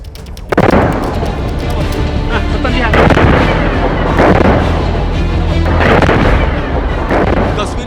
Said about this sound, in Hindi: यह बमबारी यमन सरकार ने करवाई है ताकि तेहरान से आ रहे ईरान के प्लेन को सना एयरपोर्ट पर लैंड होने से रोका जा सके।